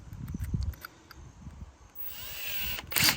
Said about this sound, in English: Using my little Milwaukee M18 hand drill.